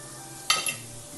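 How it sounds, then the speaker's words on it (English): Barbecue beef liver sauce, seasoned with pepper sauce and browning, stirred in a pan: two quick scraping strokes of the utensil over a low steady hiss, close and brief, with no talking. "Now stir this, and allow it to come to a simmer."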